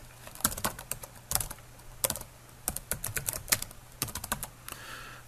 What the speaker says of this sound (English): So let me just type that out here.